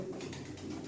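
Steady low cooing of pigeons or doves, close and continuous, with a soft murmuring texture and no voices.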